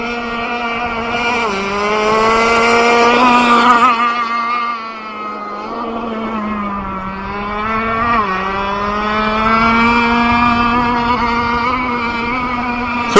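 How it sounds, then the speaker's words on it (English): The nitro engine of an Aeromarine Chaos RC boat during break-in laps, a loud, high buzzing whine that runs throughout, with the pitch rising and falling as the boat speeds up and slows on the water. "So we're just having some fun breaking in this engine."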